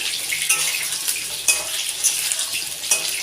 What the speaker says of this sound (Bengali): আলুটা কিন্তু লাল লাল করে ভাজা হয়ে গেছে